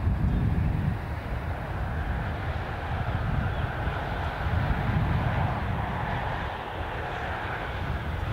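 An airplane takes off at Newcastle International Airport, its engine roar loud and steady throughout, with a heavy low rumble that swells and eases slightly as the aircraft climbs away.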